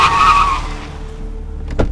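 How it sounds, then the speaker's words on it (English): A car speeding down a city street at night for a radio drama, heard as a loud tire squeal and rushing engine that fades away, followed by a brief sharp burst near the end. "A car moving too fast, barreling down the street like a bullet"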